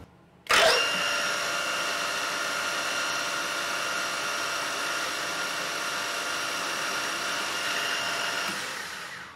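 A metal milling cut with a Walter UTA80 dividing head starts abruptly and holds a loud, steady high whine with a constant pitch for several seconds, then stops near the end.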